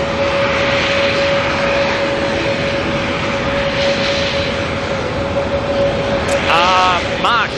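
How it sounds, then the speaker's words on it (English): An Airbus A321 jet descends onto the runway at Auckland Airport at night, arriving on a domestic service from Queenstown. A steady, loud engine rumble holds throughout with a high whine over it, and brief chirps come near the end. "one of the international 321s, is coming in on the domestic from Queenstown"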